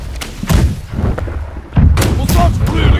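Ship cannons firing in the naval game Blackwake, a series of heavy booming thuds roughly every half second to second, loud and close, with game noise and faint voices in the background.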